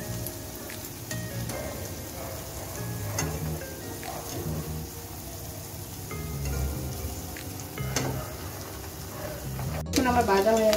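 Potato snack sticks fry in medium-hot oil, a steady close crackling sizzle running throughout with occasional stirring clinks and a louder burst near the end.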